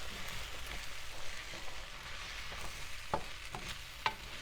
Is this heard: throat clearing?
no